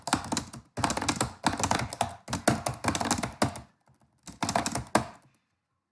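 Rapid typing on a computer keyboard, close and clear, with bursts of quick key clatter separated by short pauses and one longer gap before a final burst.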